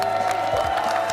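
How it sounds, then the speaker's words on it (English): An energetic, excited crowd at the MLG Dallas 2013 StarCraft tournament, a steady loud wash of cheering and crowd roar with no break across the short moment. "I'm sitting here in a very energetic and excited crowd"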